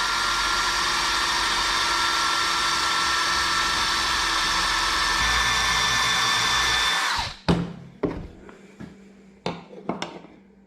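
A power drill bores a hole into a broken deer antler during a repair, whining steadily and loudly for about seven seconds, then stopping, followed by several sharp knocks and handling clatters.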